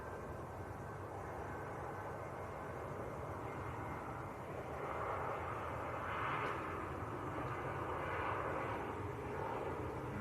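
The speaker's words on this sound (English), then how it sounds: "This is Lufthansa from Frankfurt. Little A319." Lufthansa Airbus A319 from Frankfurt landing at Manchester Airport, a faint, distant jet engine hum that swells slightly in the second half as it passes.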